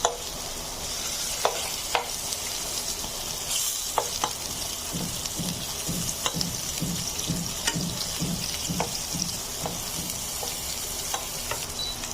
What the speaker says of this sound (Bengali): লাউগুলো আমি মিডিয়াম লো হিটে ভেজে নেব সবগুলা।